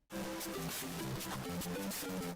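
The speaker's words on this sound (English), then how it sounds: "Mario game soundtracks usually sound like this." Bouncy, upbeat Mario video-game music with quick, rhythmic melodic notes over a steady beat, playing continuously and fairly faint.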